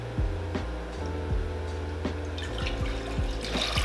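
Four-percent milk, about a cup and a half, poured into a cooking pot for French vanilla ice cream, a steady liquid stream splashing and trickling close by, with occasional clinks, alone without talk.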